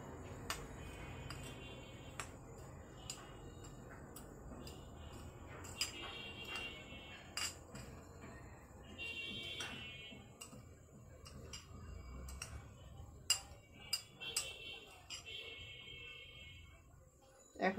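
A spoon stirring powdered milk and sugar together in a bowl gives faint, scattered clinks and taps against the container, irregular and soft, with quiet talk at times.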